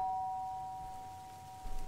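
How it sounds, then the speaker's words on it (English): A doorbell in the video game Lake chimes, a faint, sustained tone over quiet ambience, followed by a soft bump. "Ring the doorbell."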